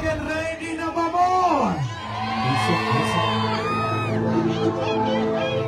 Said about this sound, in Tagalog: grabe ang sigawan sa mga solid supporters niya diha sa Kobe, Japan